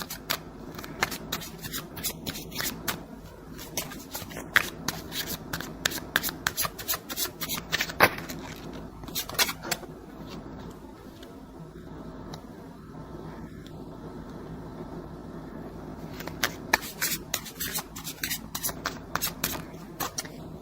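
Tarot cards are shuffled and drawn in quick crisp riffles and snaps, repeated bursts close to the mic with a quieter stretch in the middle and faint talk underneath.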